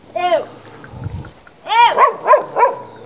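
A dog barks close by, one sharp bark, then a pause with a low thump, then a rapid run of three or four loud barks.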